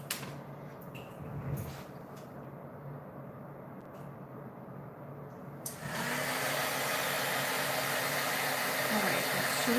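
A heat tool heat-sets embossing powder on a stamped greeting card, kicking in about halfway through as a loud, steady blowing roar that holds to the end after a quiet stretch of faint room sound.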